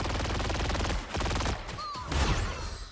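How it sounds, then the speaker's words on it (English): Star-Lord's rapid gunfire in the Marvel Rivals hero shooter, a dense fast-rattling stream of shots filling the moment at moderate loudness, with brief whooshing ability effects near the end. "the Star-Lord's shooting at him too"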